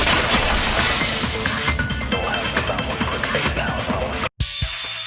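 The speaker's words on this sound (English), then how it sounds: "At the entrance hall, the girls heard the sound of the window shattering." Glass shatters loudly in a video game, a dense sustained crash that fills the sound for about four seconds before a sudden brief cutout and a quieter tail.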